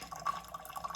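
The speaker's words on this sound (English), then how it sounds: "it seems to drip" Tea drips around the spout of a Ninja Hot and Cold Brewed System, making faint, quiet liquid drips and trickles in an otherwise still kitchen.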